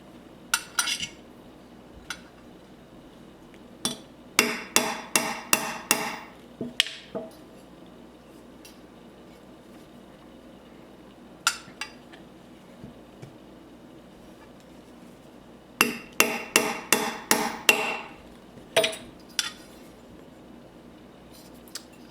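Hammer taps seating an AR-15 trigger guard, heard as two bursts of sharp metallic clinks in quick rhythmic series, close and fairly loud, with a few scattered single taps between them and no talking.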